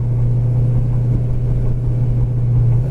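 A silver 1972 Chevelle driving along, a steady low engine hum and road rumble inside the car, constant and fairly loud with no voices.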